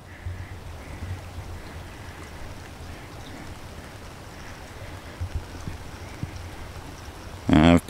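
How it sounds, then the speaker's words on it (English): Steady, close rain patters down across a garden with a continuous soft hiss, a few louder drops and knocks scattered through, ending with a brief loud rustle. "As you can tell, it's raining out."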